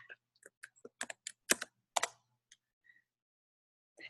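Keystrokes on a computer keyboard typing a search query, a quick irregular run of close, crisp clicks that tapers off into a few isolated taps with quiet gaps.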